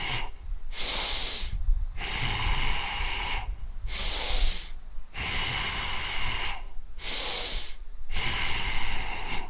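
Rhythmic, forceful breathing in a senior fitness dynamic tension exercise, with loud sharp inhales and exhales alternating in bursts about every second and a half, close and alone with no talk.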